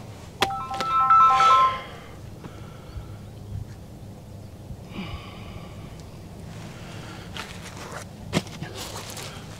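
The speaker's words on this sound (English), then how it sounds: "got a phone call when I'm trying to work as usual" A phone ringtone rings once for an incoming call outdoors while weed barrier fabric is being laid, a short melodic burst near the start, followed by rustling and a few footsteps.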